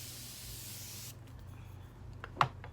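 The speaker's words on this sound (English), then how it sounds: "I'm just gonna go in with this Morphe spray real quick" Morphe setting spray mists onto a face in a steady, soft hiss lasting about a second, close to the listener, followed by quiet rustling and a small tap.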